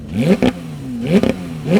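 A Porsche 911 GT3's rear-mounted engine revs in three sharp blips, each rising quickly and falling back to a steady idle hum, loud and close.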